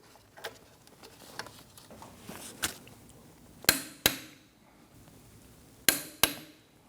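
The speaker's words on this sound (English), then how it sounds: "I will be using an impact wrench." Sharp, loud bursts from an impact wrench tightening the caliper-to-knuckle bolts on a 2009-2017 Audi Q5 front brake, two pairs of hard hits late on after softer tapping and clicking in a quiet garage.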